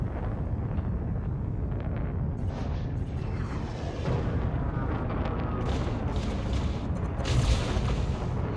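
Plasma weapon fire from an Anaconda ship in Elite Dangerous PvP combat, heavy booming bursts over a dense low rumble throughout, with brighter crackling energy near the end.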